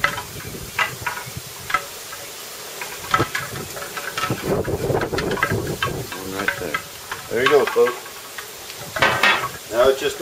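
Bacon-wrapped jalapeno peppers sizzle on a grill over moderate heat. The soft, crackling fry comes with clinks and scrapes of handling, and someone talks intermittently over it.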